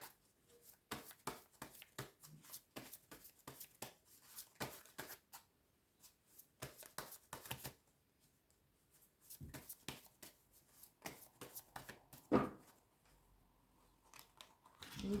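Tarot cards are shuffled and handled close by in a quiet room, a rapid series of crisp papery flicks and riffles in bursts with short pauses between them.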